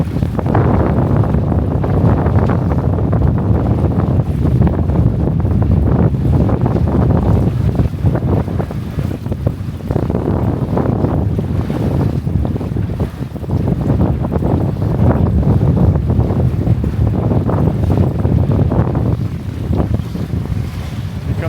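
Strong, gusty wind roars steadily across the microphone while sailing a Catalina 22 on open water, a loud continuous rumble with waves and boat noise underneath and no talking.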